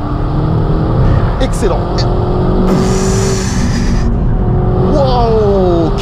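Renault Megane 4 RS Chassis Cup lapping a race circuit, its engine droning loud and close with rising and falling revs through gear changes, while a driver talks briefly over it.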